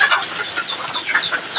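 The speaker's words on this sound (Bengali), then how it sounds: "এটা একটা বাউ মুরগি, বাউ মুরগি মানে ক্রস দিয়ে আর কি তৈরি হয়" BAU crossbred chicken, a Sonali cross, clucking in short repeated calls at close range, with no voices over it.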